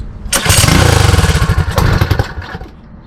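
A Predator 224 HEMI small engine sputters into life and runs in rapid, uneven pulses for a couple of seconds before stumbling. Loud, close thuds mark the rough, backfiring start.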